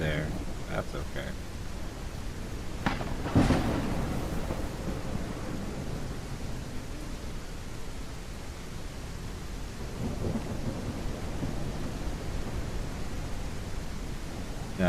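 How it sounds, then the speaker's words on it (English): Thunder rolls across a stormy scene in a video game, a loud crack and rumble early on followed by a softer second roll, over a constant hiss of rain. "Now there's thunder and lightning."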